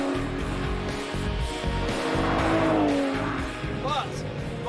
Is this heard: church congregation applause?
no